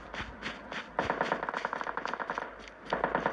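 Gunfire from a firefight in the mobile game Call of Duty Mobile crackles in rapid automatic bursts, fairly loud and continuous, with a few brief pauses between volleys.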